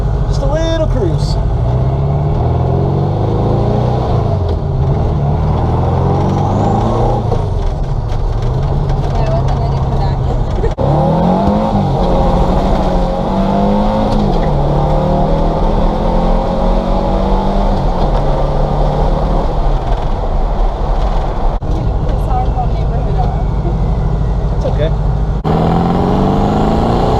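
A homemade sand car called the Bug cruises with its engine droning loud and close, revving up and easing off in long swells over rumbling road noise, with people talking over it.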